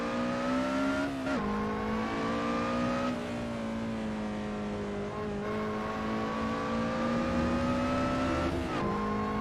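A Lotus race car engine drones steadily at high revs in a racing game, its pitch sagging and climbing through several gear changes over about nine seconds, loud and continuous with no talk.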